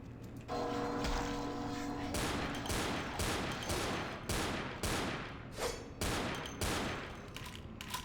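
Gunfire in the video game Vampire: The Masquerade – Bloodlines: a string of sharp, loud shots in irregular bursts, each with a quick ringing decay, alongside a brief steady tone early on.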